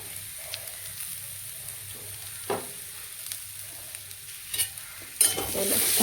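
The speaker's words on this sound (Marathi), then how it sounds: "आपण त्याच्यामध्ये खोबरं टाकून घेऊया एक दोन दोन नारळाचा खोबरं आहे" Grated coconut from two coconuts roasts in a pan, giving a quiet, dry background hiss with a few scattered spoon scrapes and taps that grow louder toward the end, no voices present.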